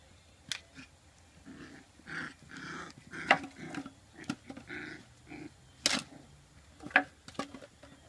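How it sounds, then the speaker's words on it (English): A nearby dog makes soft, low grumbling barks and growly noises in short bursts, mixed with scattered clicks and light knocks. "What you barking at down there?"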